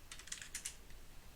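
Quick, light keystrokes tap on a computer keyboard in a short burst, faint and close, with no one talking.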